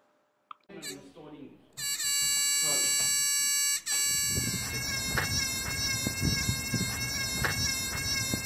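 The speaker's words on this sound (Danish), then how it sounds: "For at få lyd i summeren skulle man putte den røde og den sorte ledning på plus og minus på batteriet" A battery-powered electric buzzer switches on with a loud, steady, shrill buzz that holds for a couple of seconds, cuts out briefly, then resumes over a noisy background with faint voices.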